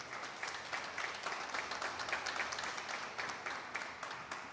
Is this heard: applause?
yes